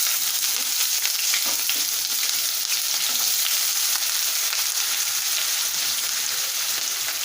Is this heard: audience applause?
no